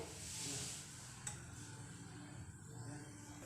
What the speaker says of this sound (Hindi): अब इसके अंदर हम ये आधा चम्मच राई डालेंगे और आधा चम्मच जीरा डालेंगे।